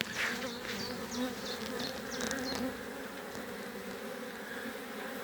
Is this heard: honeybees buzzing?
yes